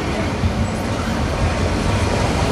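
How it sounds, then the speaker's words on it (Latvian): Steady broadband rumble of a tram rolling through Riga, loud and continuous with low wheel and motor noise, no distinct voices. "lecam iekšā tramvajā, visi vienā vagonā"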